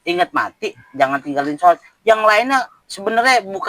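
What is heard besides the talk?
No distinct noise like a dog, phone or traffic.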